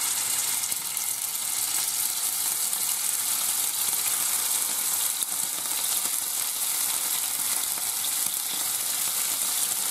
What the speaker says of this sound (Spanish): ya se ha calentado el aceite y ahora echamos los solomillitos para que se sellen